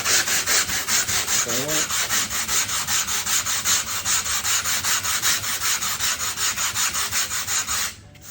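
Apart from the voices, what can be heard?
sanding block rubbed back and forth on mold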